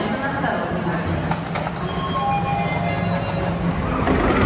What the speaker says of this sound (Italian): Questo qui è il nostro treno.